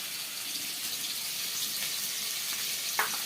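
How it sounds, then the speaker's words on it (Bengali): Potatoes fry in oil in a wok with a steady, moderate sizzle and crackle, a small sharp spatter popping out near the end. "কড়াইতে আলু দিয়ে দিয়েছি"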